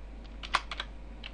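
A handful of quick keystrokes tap on a computer keyboard while a group name is entered, light and close, with one sharper click in the middle and no voices.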